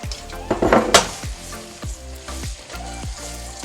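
Anchovies or red herrings dropped into a hot pan while cooking Ghanaian kontomire spinach stew, a bright hissing sizzle swelling then settling into softer frying, with a few metallic clinks of a utensil against the pan.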